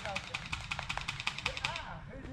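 Airsoft gun fired in a rapid burst of about ten evenly spaced sharp clicks during an outdoor skirmish, with players talking over the shots.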